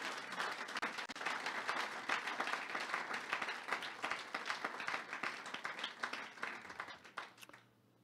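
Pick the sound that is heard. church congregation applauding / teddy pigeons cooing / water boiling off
church congregation applauding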